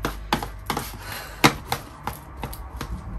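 Ingredients for banana bread are crushed by hand in a home kitchen, making a series of irregular sharp knocks and taps about every half second, close and fairly clear, with no talking.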